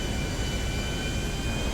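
An airplane flying in the GTA video game gives off a steady, loud engine roar that holds evenly for the whole short stretch with no talking.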